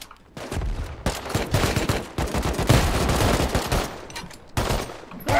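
Dense, sustained gunfire from the survival video game Rust, rapid overlapping shots and bursts filling nearly the whole stretch with only brief gaps, loud and close.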